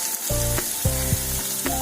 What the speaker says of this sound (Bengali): এই তেলেই আমি ফোড়ন দেবো